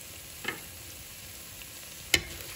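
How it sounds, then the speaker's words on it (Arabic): Fish shells frying in a pan with a knob of butter and a little oil, giving a soft, steady sizzle punctuated by two brief clinks of stirring. "غادي نزيد عليها شويه ديال الزيت باش يتقلاو لي دوك القشور"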